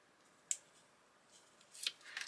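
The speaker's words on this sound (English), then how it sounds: "I am going to cut it in half" Scissors snip through a paper ticket for a junk journal collage, a sharp close click followed a little later by a short crisp cutting rustle, quiet otherwise and without speech.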